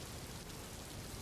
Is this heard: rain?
yes